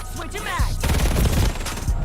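Rapid automatic gunfire from a Call of Duty: Modern Warfare III match crackles loudly and continuously, a dense burst of shots filling the whole moment with no talk over it.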